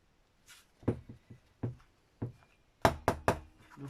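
A tool punches through fabric and card in a series of soft, sharp knocks and thumps, single hits first and then a quick cluster of three louder strikes near the end, close and quiet with no talk.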